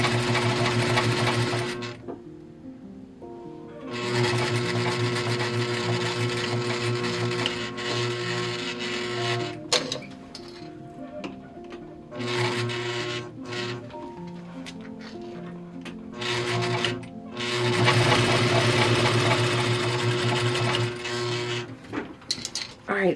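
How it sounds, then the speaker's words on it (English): A sewing machine stitches down bra fabric in several loud, steady bursts of rapid mechanical whirring, with brief pauses between runs. "you can either sew this down or you can cut it away"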